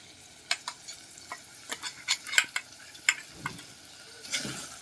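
A Telangana-style bottle gourd curry with peanuts and sesame is stirred in a pan, with soft scattered scrapes and clicks over a faint low sizzle. The stirring is quiet and close.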